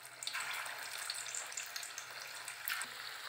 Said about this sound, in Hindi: तेल गर्म हो गया है, मैं डाल रही हूँ इसमें पत्तों को।